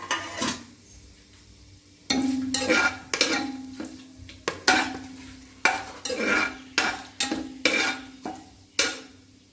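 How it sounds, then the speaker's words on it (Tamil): Bay leaf, cinnamon and cloves fry in a mix of ghee and oil for pulao rice, with a soft sizzle beneath repeated close-up scraping and clattering stirs in an uneven rhythm. "தேவையான அளவு இந்த இலை, பட்டை, கிராம்பு எல்லாத்தையுமே போட்டு நல்லா வதக்கிடுவோம்."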